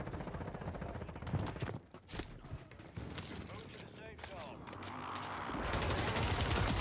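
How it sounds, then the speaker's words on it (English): Gunfire from several players at once in Warzone on Rebirth Island, with bursts and shots crackling through a busy, dense mix while someone talks over much of it. "Everybody's shooting me, bro."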